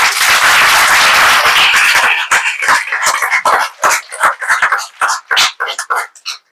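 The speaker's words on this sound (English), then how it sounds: "A big round of applause." Dense applause from a crowd, loud at first then thinning into scattered individual claps before fading out.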